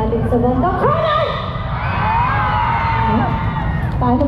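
A packed Philippine rally crowd, children included, cheers and yells loudly in a continuous roar, rising voices and whoops blended into one dense sound.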